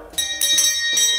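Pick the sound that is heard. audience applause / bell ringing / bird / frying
bell ringing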